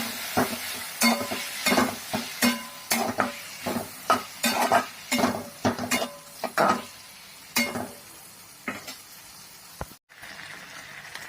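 Cluster beans (gavar) tossed into a pan of cooking oil and stirred, giving a run of repeated scraping and clinking spoon strokes over a soft sizzle, steady for several seconds before tapering off.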